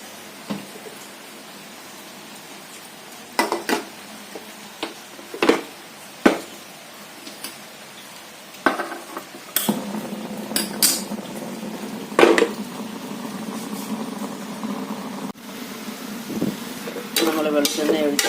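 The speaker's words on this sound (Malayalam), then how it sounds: "ഒരല്പം വെളിച്ചെണ്ണ ഒഴിച്ചൊന്ന് ഇളക്കാം." A spoon stirs sambar vegetables in a metal pot after coconut oil goes in, with sharp clanks and scrapes over a soft sizzle, the stirring growing busier midway.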